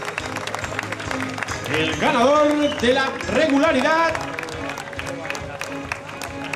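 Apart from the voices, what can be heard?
crowd applause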